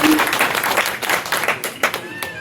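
A crowd at a goldsmith community event in Malad, Mumbai claps steadily through a short, dense burst of applause, with a few voices faintly underneath.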